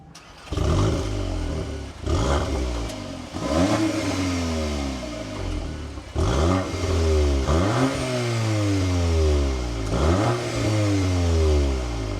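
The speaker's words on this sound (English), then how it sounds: "let's start this up and take a listen to how the Golf R sounds" A Volkswagen Golf R engine starts and revs repeatedly, each blip rising sharply and falling back to idle, loud and close, with several rev cycles in a row.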